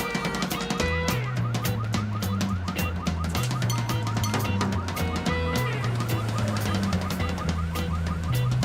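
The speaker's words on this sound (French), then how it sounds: "c'est le nouveau système d'alarme à Bob." A house alarm system blares continuously in a loud, repeating electronic warble that cycles between tones without pause, with no voices over it.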